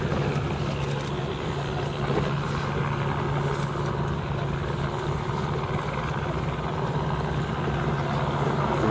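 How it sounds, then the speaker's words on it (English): Steady droning outboard motor of a rigid inflatable boat bouncing on choppy water, continuous and fairly close, mixed with wind and splashing. "Oh, this rib's bouncing around."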